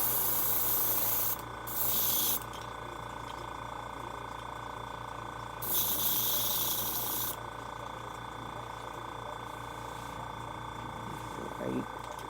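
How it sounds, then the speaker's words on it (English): Airbrush spraying in bursts: three loud hissing sprays of about one to two seconds each, separated by quieter stretches of low hum, close to the listener. "This stupid airbrush."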